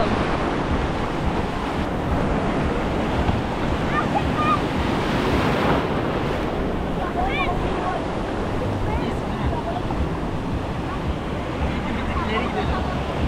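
Ocean waves at Kuta Beach, Bali, surge and crash continuously with a broad, rushing roar, wind buffeting the microphone and faint voices speaking beneath the surf.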